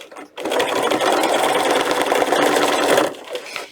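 A sewing machine stitches a strap on a handmade book protector, running in a steady, fast, continuous whir for about two and a half seconds before slowing and stopping, close up with no talk over it.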